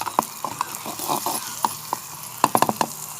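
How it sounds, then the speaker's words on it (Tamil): Onions sautéing in a miniature cooking pan, a soft continuous sizzle broken by scattered light taps and scrapes of a small utensil stirring, close and moderately quiet. "வெங்காயம் நமக்கு நல்லா வதங்கட்டும்."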